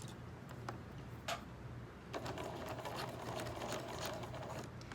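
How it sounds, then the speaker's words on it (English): A sewing machine stitches across a thin fabric mask strap, its needle chattering in a steady rapid run that briefly pauses, then resumes more densely as the stitching reverses, close and clear with no talk. "I'm going to sew across it, and then I'm going to reverse"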